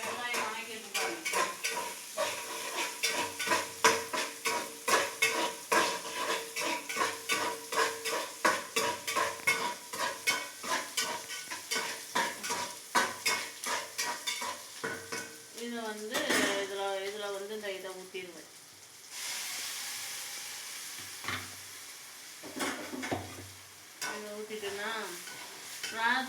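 Onions frying in a pan for fish curry, a continuous sizzle broken by rapid rhythmic clatter of a spoon stirring against the pan, with quieter pauses and a brief voice later.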